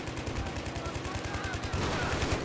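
Automatic gunfire in Battlefield 3 multiplayer: rapid, evenly spaced shots in a continuous burst, loud and close, with a denser volley near the end.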